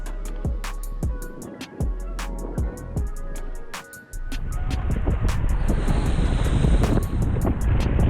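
Strong gusts of wind batter the microphone on Lake Superior during a passing thunderstorm, heavy rumbling blasts swelling and easing, then building into a sustained roar with surf-like hiss and scattered sharp knocks.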